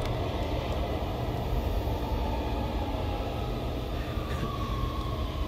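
A train in the Roblox game The Mimic produces a steady, loud rumbling roar with a constant hiss and no pauses, like a continuous ride inside a moving carriage.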